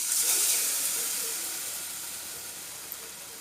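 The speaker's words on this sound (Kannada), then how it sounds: "ಈಗ ಬಜ್ಜಿಯನ್ನು ಎಣ್ಣೆಯಲ್ಲಿ ಬಿಡುವ" Chilli bajji fritters hit hot oil in a kitchen pan with a loud, bright hiss that gradually settles into a steady, softer sizzle, no voices over it.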